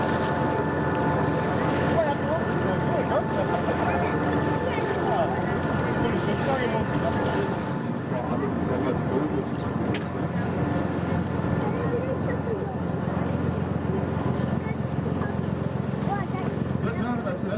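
A harbour launch cruising on a Hamburg harbour tour, giving off a steady low engine drone mixed with wind noise, constant and fairly loud throughout.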